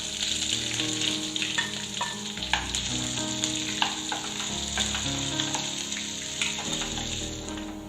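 Long-sliced onion and curry leaves fry in a pan for a vegetable white kurma, a continuous loud, crackling sizzle with occasional stirring scrapes and no voices.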